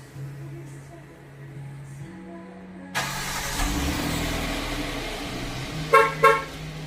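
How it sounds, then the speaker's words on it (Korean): A Kia K7 (The New K7) being remote-started with its smart key, lock button pressed twice: the engine turns over and settles into a steady nearby idle, followed by two short horn-like chirps. "잠긴 버튼 두 번 누르시면 원격 시동 가능합니다"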